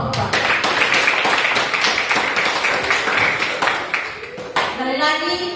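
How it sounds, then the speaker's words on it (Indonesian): Students in a classroom clap for a presenting group, a dense burst of many hands applauding loudly and continuously before trailing off, with a voice speaking near the end. "Baik, tepuk tangan buat kelompok 4."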